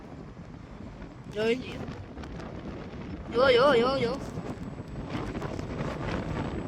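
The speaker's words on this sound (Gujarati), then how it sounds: "અહીંયા આટલી હવા હાલે ને જો ચંપલ હલે છે જોઈ લ્યો" Wind buffets the microphone with a steady low roar, while a person speaks briefly twice over the gusts.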